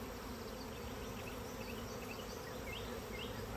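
Honey bees swarm and buzz steadily around an open hive during a messy comb removal, a dense continuous hum close by with no talking.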